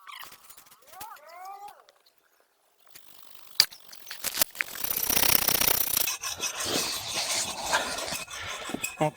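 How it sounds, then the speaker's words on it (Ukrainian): A brief chirping sound, then quiet, followed by rough, continuous rasping of a hand saw cutting through metal rods, with occasional knocks. "там відпіляємо ці прути. Все, добре, що є ця пилка."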